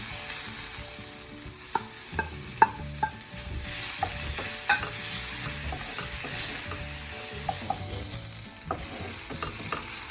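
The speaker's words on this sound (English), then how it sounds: "So I'm gonna add my ginger now and my coriander now" Ginger and coriander sizzle steadily in a hot pan, with a continuous high hiss of frying broken by scattered spatula clinks and scrapes as the mixture is stirred.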